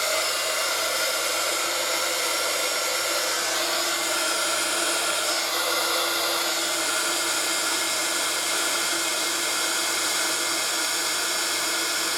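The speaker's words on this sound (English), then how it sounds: "Now I'll heat emboss it." Heat gun blowing hot air to melt embossing powder on a stamped Christmas card, a close, loud, continuous whooshing hum held steadily throughout.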